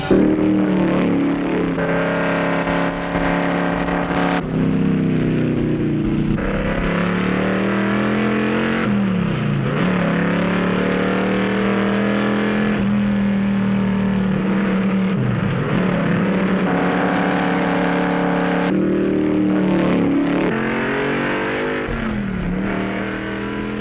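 Stock cars race at the 1968 Daytona 500. Loud engines roar and rev as cars sweep past one after another, each pass rising and falling in pitch over a constant racing drone.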